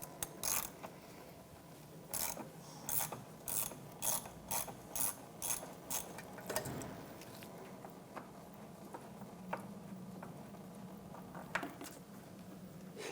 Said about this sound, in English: We're going to use a 19mm socket to go ahead and loosen and remove this sensor.